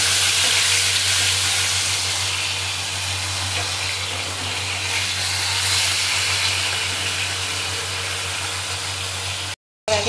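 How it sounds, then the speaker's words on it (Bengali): Pieces of tilapia fish fry in hot oil in a pan, producing a loud, steady hissing sizzle with a constant low hum that continues throughout before cutting out briefly near the end. "মাছগুলো এপিট ওপিট করে ভেজে নেব"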